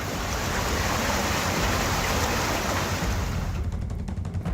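Floodwater rushing through village streets after heavy rain in Jharkhand, a dense, continuous roar of flowing water heard close and steady with no voices.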